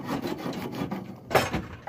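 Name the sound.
sandpaper cloth rubbing a water supply pipe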